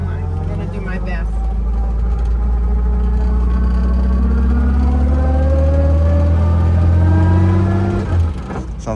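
A 1962 Jaguar XKE engine drones loud and close as the car accelerates, its pitch climbing steadily through a gear before dropping off at the shift, with voices talking underneath.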